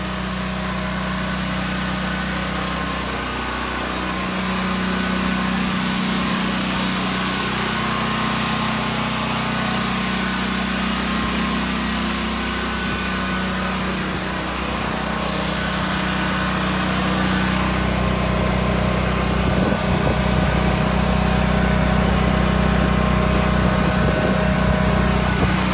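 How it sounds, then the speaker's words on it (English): A generator runs steadily inside a shed while powering a fan, giving a constant, loud engine drone with a low hum that stays even and close for the whole stretch. "So generator's on."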